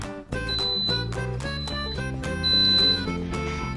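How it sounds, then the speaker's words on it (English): An Instant Pot programmable electric pressure cooker plays a loud series of rapid, evenly spaced electronic beeps and tones, close and clear for several seconds with no talk. "In a few seconds, Instant Pot will beep, and that will tell you it knows what to do"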